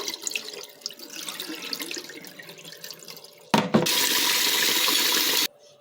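Rice being washed by hand in a bowl for a second rinse, soft swishing and dripping water, then a loud steady stream from a tap running for about two seconds before cutting off.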